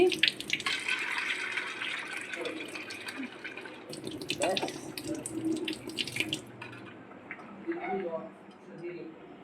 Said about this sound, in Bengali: তো ছোলাটা ভিজিয়ে রাখছি